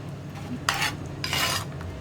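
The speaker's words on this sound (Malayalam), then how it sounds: "അപ്പോൾ ചെറുതായിട്ടൊന്ന് ഉടച്ചു കൊടുക്കാം." Cooked yam pieces being lightly mashed in a pot for Kerala erissery curry, giving two short scraping, squishing bursts of utensil against the pot over a low background hum, with no one speaking.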